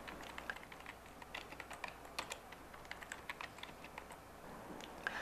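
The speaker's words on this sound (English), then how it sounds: "By typing Links and typing the domain name O'Reilly.com" Someone types commands on a computer keyboard at a Linux command line on a Windows machine, a quiet, fairly steady stream of close, light key clicks with brief uneven gaps.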